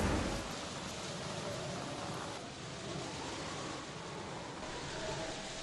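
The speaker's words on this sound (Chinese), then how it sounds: "片刻之后大雨倾盆。" Heavy rain pours down on a spring pool in the countryside after a sudden gale and dark clouds, a steady, dense hiss of downpour that holds evenly throughout, fairly faint, with no voices.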